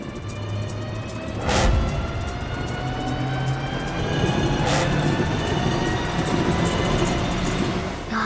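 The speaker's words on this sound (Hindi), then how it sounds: "मेरी सुपरफास्ट ट्रेन को ब्रेक लग चुका है।" A superfast train rolls along with a continuous rumbling rail roar, and high thin squealing tones from the braking wheels run through it. Two louder surges of noise stand out near the start and middle as the train slows.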